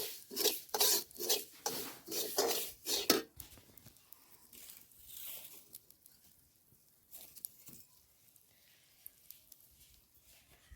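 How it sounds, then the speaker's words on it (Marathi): Poppy seeds roasting in a hot pan while spice masala is prepared, with rhythmic loud scraping and stirring strokes at first, then a softer, intermittent crackle and rustle of seeds moving against the metal. "सगळा जाळ बाहेर काढून खसखस टाकायला आता लय उडत असते ना पटकन भाजून घ्यायची"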